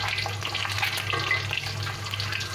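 Eggs frying lightly in a pan give a continuous soft, close sizzle with faint crackle, with no voices over it.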